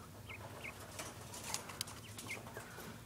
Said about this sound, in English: Happy quail.